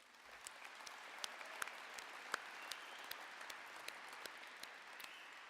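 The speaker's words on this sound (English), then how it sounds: "Could we give him another round of applause?" Faint, thin applause from an audience at an opening ceremony, a steady patter with a few sharper individual claps, heard alone after a call to applaud the mayor.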